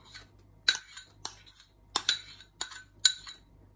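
A spoon clinks against a bowl while corn stick cake mixture is stirred, giving a handful of sharp, bright taps in an irregular rhythm with quiet gaps between them.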